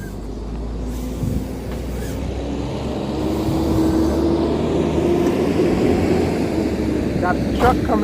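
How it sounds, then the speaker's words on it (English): A truck pulls out nearby outdoors, its engine a loud, steady drone with a low hum that builds slightly and holds throughout, over constant background rumble. "Got the truck coming out."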